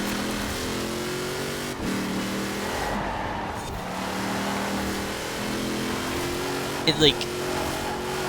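A C8 Corvette engine drones steadily while driving in Forza Horizon 4, holding a sustained rev with slight pitch shifts and a brief tire chirp near the end, under continuous talk.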